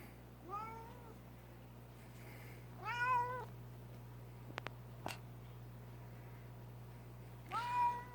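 A domestic cat meows three times, each a drawn-out call spaced a few seconds apart, close by over a low steady hum, with a couple of faint clicks between.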